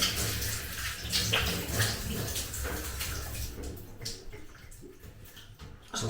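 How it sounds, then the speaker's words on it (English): Water from a running tap splashes and sloshes as a face is rinsed after a straight-razor shave with wool-fat soap, a close, steady wash that gradually thins out. "Okay, so I'm just going down for a quick rinse"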